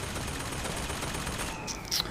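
Gunfire in the shooter BioShock Infinite, a rapid burst of shots blurred into a continuous rattling volley under a noisy mix, with one sharper crack near the end.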